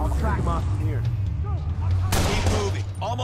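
Sniper gunfire in the video game Watch Dogs: a sharp, loud broadband burst of shots cuts in midway over constant low game rumble, while someone talks excitedly throughout.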